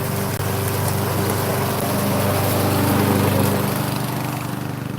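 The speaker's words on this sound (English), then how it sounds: "we're going to pass by a lawnmower" A lawn mower engine running close by, a loud steady droning rumble that holds throughout with only slight swells in pitch and volume.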